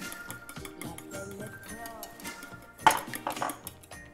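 Utensil stirring quiche ingredients for a leek quiche in a bowl, a busy run of clinks and scrapes of metal against the bowl with one sharper knock near the end, fairly close and moderately loud.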